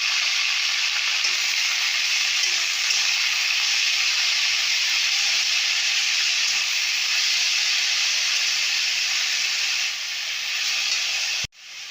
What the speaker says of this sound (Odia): ଦେଖନ୍ତୁ ସେଇ କଡ଼େଇରେ ଏବେ ଶାଗକୁ ପକାଇଦେଲି ଭାଜିବା ପାଇଁ।